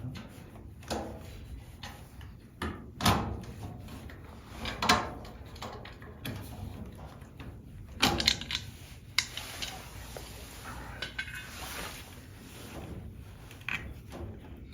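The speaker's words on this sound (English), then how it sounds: "what I'm going to be doing is taking this door off and pulling the filter out" Sharp clicks, knocks and scraping clatter ring out from a metal furnace access panel being removed and an air filter being pulled out, with irregular bursts over a quiet background hum.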